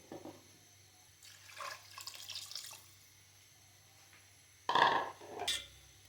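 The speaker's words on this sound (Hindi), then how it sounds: "उसी से ही मेजर करके हम इसमें 2 प्याली पानी ऐड कर देंगे।" Water poured into a pot of fried rice and vegetables for shahi pulao, two short splashing pours with a quieter trickle before them, close and alone.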